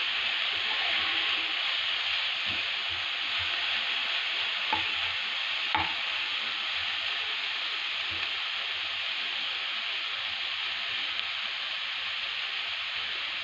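Brinjal frying in oil while being stirred, a steady broadband sizzle with a few soft scraping knocks of the spoon early on, no one speaking.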